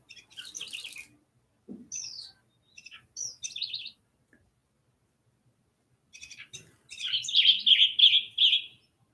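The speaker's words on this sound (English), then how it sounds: "The song of the bird." A songbird sings in short bursts of bright chirps and trills separated by silent gaps, ending in a louder repeated phrase, clear and fairly close with no talking.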